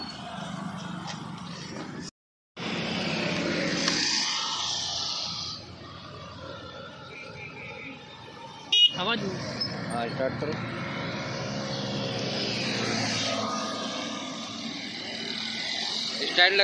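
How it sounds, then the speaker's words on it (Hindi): A heavy motorcycle engine roars and revs up and down, loud and close, with someone talking over it. "काफ़ी हैवी बाइक है, काफ़ी हैवी आवाज़ है, सुन सकते हैं इसकी आवाज़।"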